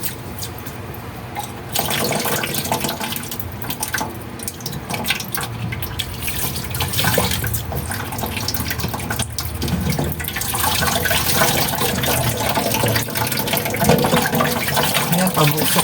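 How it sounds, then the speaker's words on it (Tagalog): Water bursts from a kitchen tap in uneven spurts, a loud broadband rush that starts weaker, then surges and keeps gushing, with faint background voices. "Busok-busok ang agos."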